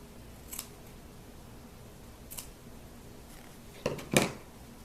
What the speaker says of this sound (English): Gotta snip that again.